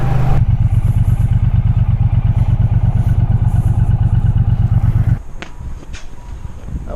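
A loud 2018 Triumph Bonneville motorcycle engine roars steadily at close range while riding for about five seconds, then drops abruptly to a quieter idle with a few clicks and rattles.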